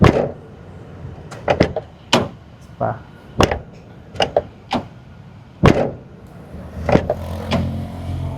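A car door without a door dampener slams shut again and again, giving a string of sharp, loud, close thuds at uneven intervals, with brief talk in between.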